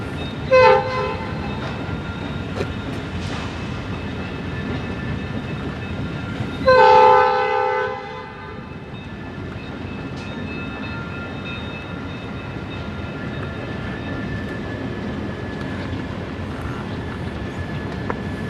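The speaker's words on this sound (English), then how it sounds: "this job having a BNLE SD38-2 on point" A BNLE SD38-2 locomotive leads a freight train along IHB connecting tracks, its horn sounding in two bursts near the start and around seven seconds, over a steady rumble of rolling cars that continues to the end.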